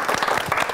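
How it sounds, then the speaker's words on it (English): A brief, dense patter of classroom applause fills the room for a student's correct answer during an English lesson, steady and fairly loud with no pause. "Have a seat, please, and give applause."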